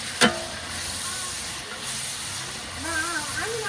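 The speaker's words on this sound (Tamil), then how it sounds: "நல்லா வதக்கிக்கிடலாம்" Sliced onions with cinnamon, cloves and cardamom sauté in a large quantity of oil for village-style mutton biryani. A constant hissing sizzle plays with a sharp knock near the start and faint voice sounds toward the end.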